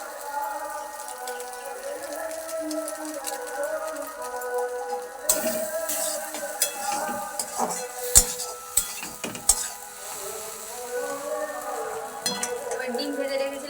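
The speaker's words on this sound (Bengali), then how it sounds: "জলটা দিয়ে দু মিনিট নেড়ে নিয়ে তারপরে ম্যাগি মশলাটা দিয়ে দেবো" Pasta being stirred with water in a pan for an egg pasta dish, soft bubbling and a faint sizzle with repeated scrapes and clinks of a spoon against the pan, moderately close, over background music.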